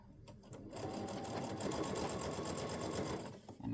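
A sewing machine with a quarter-inch foot stitches a placemat seam forward, then backstitches, running as a fast, steady, close mechanical whir with a brief slowdown near the end.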